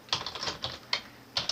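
A computer keyboard is typed on during a Windows 10 registry tweak, producing a handful of light, quiet key clicks at an uneven pace in a quiet room.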